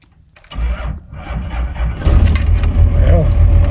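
A first-generation Cummins diesel that has sat unused for a long time cranks briefly with a faint jingle, then catches and settles into a loud, steady, rumbling idle close by.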